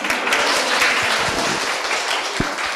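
A roomful of people at a Buddhist fellowship memorial event clap in a dense, steady wash, fairly loud and close, with a few heavier thumps mixed in.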